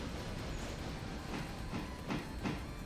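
A train gets under way once its reverser is set, a steady rumbling bed with several sharp rail clicks spaced through it, fairly close and with no talking.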